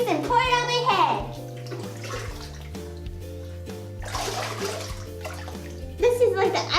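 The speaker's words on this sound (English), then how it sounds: "So I have a giant bin, which I'm going to fill it with Orbeez and pour it on my head." A giant bin of Orbeez gel beads is poured over someone's head, making wet, rushing, splashy cascades in a few bursts, close by, with someone talking in between.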